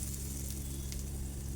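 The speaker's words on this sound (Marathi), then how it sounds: "आता आपण ही फोडणी चटणीवर छानपैकी घालून घ्यायची आहे" Hot ghee tempering with asafoetida poured over raw mango chutney gives a steady, dense sizzle close by, continuous and even throughout with no voices.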